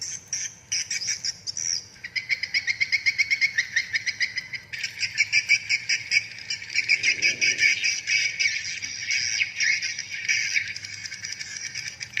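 Recorded swiftlet mating calls play as a steady, dense stream of rapid chirping and rattling pulses, bright and continuous for about twelve seconds with no voices.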